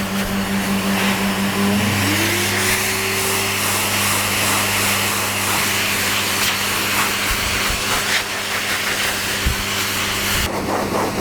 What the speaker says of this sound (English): constantly moving the dryer around, either in back and forth or in circular motions